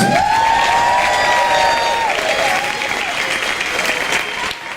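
Studio audience applause for a musical guest on a television show, a loud, steady burst of clapping with some cheering that holds for several seconds and eases slightly at the end.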